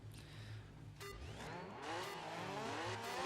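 A rear-wheel drive Ford Escort Mark II rally car in DiRT 3 revs and accelerates, engine tone climbing through gears with a brief squeal, moderately loud and without talk.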